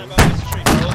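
Musket volleys in a line battle video game: two sharp, loud bursts of gunfire about half a second apart, close and crackling.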